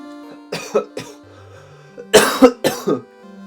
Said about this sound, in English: doing that hiccup made me want to cough.